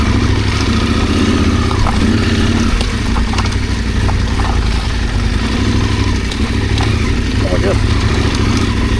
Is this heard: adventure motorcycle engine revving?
yes